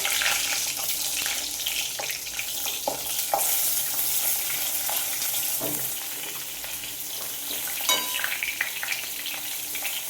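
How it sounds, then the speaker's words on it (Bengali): Eggplant frying in hot oil in a kadai with a constant close sizzle, punctuated by a few soft clinks and stirring sounds. "এরপর বেগুনটা ভাজবো।"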